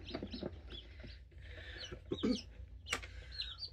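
Newly hatched chicks in a brooder, including a cream crested legbar, give faint, scattered high peeps and soft chirps in uneven bursts over low background hum, with no speech.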